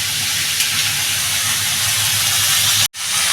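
Ingredients fry in a pan for a tilapia curry, producing a loud, even steamy hiss that runs throughout, broken by a brief dropout near the end, with no talking.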